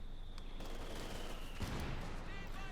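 Mortar fire from a captured mortar in Company of Heroes 2, dull booms and crackle buried in a dense battlefield din, with a high steady tone and voices audible underneath.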